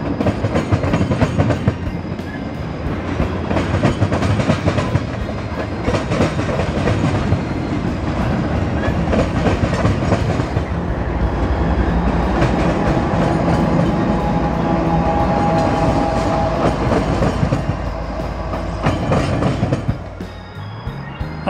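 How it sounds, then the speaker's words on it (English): Freight train rolling over the diamond crossing at Durand, Michigan on a hot day, a loud sustained rumble of railcars with rhythmic clickety-clack of wheels over the crossing joints, heard close and continuous, easing off at the end. "I like the sound of a train going over a crossover."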